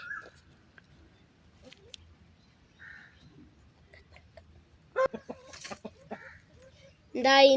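Scattered clucks from a chicken, sparse and intermittent, then a louder burst of squawky calls near the end, with some faint voices in the background.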